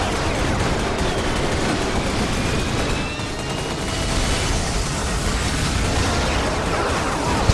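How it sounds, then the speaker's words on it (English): Four cannons blazing in Ratchet & Clank All 4 One on planet Igliak, a dense, continuous barrage of rapid gunfire and explosions that stays loud and unbroken throughout. "This must go pretty fast when you have like 4 cannons blazing."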